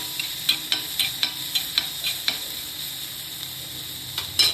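Onions for brinjal bharta sauté in a pan under a steady sizzle, punctuated by a regular series of light spatula taps and scrapes against the metal, with no talking.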